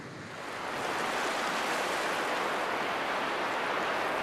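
Waves wash against a Great Lakes shore in a steady, broad rushing roar that swells in over the first second and then holds evenly, fairly faint and with no voices.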